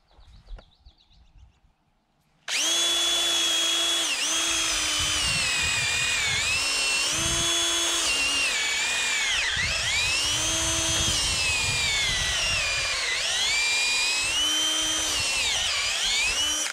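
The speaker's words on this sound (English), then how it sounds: "I'll drill my holes right at 4 foot there" After a short quiet stretch, a power drill whines loudly and continuously while boring holes into wooden fence braces for a garden fence, its pitch dipping and rising as the bit bites into the wood.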